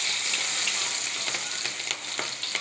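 Onions hit hot oil with cumin and mustard seeds in a pan for a drumstick mutton curry, giving a steady, close hiss of frying with scattered crackles and pops throughout.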